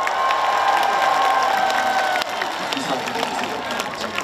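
A large outdoor crowd claps and cheers at a trot singer's performance during the 2024 Sunchang Jang Festival in Korea. Dense applause with shouts runs throughout and eases slightly partway through.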